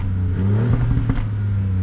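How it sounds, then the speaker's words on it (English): A Ford Fiesta ST MK8 in sport mode with its exhaust valves open, the engine droning in a loud, steady low rumble that swells slightly as it revs, heard from inside the car. "Now the valves open and we have a lot more sound."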